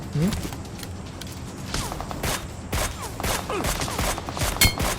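Gunfire in the mobile battle-royale game PUBG Mobile, scattered sharp shots with a few rapid bursts over continuous game ambience, while a player talks throughout.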